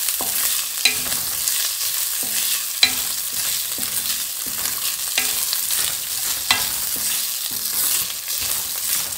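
Cooked rice is stirred and fried in ghee over low heat for a sweet kheer, with a continuous gentle sizzle and repeated scraping strokes of a spoon against the pan, close and unaccompanied by speech.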